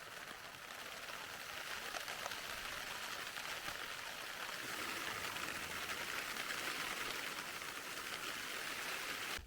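Steady rain patters on a tent pitched for wild camping in Scotland, a dense, even hiss of drops heard from inside, faint and unbroken throughout.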